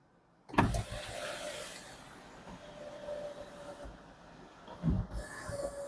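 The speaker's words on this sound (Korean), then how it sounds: "썬루프 작동 시연 해보겠습니다" A small electric motor whirs steadily for several seconds, with soft clicks at the start and near the end as the panoramic sunroof of a Hyundai Grandeur IG 3.3 opens and closes without rattles.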